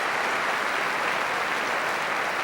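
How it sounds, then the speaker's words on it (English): An appreciative Wimbledon crowd applauds Venus Williams at the 2000 quarter-final against Martina Hingis, a dense, steady wash of clapping from many hands, sustained and even, with no voices. "a terrific reception for Venus from this very appreciative crowd"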